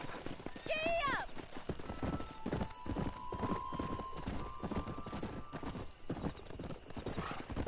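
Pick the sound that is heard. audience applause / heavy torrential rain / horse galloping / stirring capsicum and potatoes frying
horse galloping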